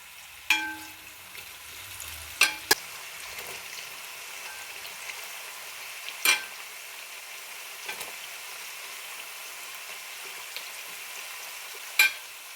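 Jackfruit chips frying in coconut oil in an uruli, a soft steady sizzle with a few sharp clicks and knocks of stirring spaced through it, no talk.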